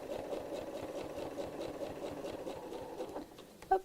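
Sewing machine stitching a soft baby toy around the nose, a fast rhythmic mechanical chatter running steadily close up, with a brief louder clunk at the end.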